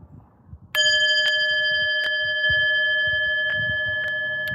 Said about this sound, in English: Let's do the bell.